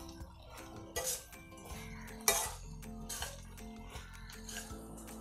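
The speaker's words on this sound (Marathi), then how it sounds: "आता मिक्स करून घेते" Okra bhaji with grated wet coconut and crushed peanuts stirred in a pan, giving a run of clinks and scrapes of a spoon against the metal, with a few louder knocks standing out.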